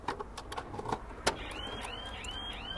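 Trunk of a 12-year-old modified Hyundai Accent being opened: a few sharp latch clicks and clunks up close, followed by a rising mechanical whine that repeats in short sweeps, with no speech.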